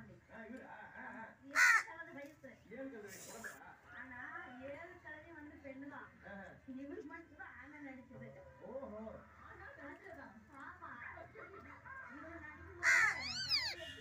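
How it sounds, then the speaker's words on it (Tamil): A crow caws in two short, sharp bursts near the start and end, heard over a voice talking throughout. "மீனாட்சி காக்காய் வரட்டு, காக்காய் வரட்டு அம்மா"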